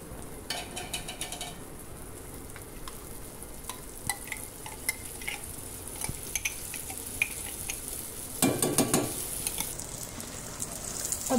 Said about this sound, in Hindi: अब ग्रेवी डालने के बाद अच्छे से मिक्स कर लेंगे।